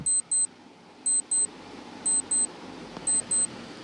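Quiz countdown timer: repeated pairs of short, high electronic beeps, four double-beep groups about a second apart over low background hiss.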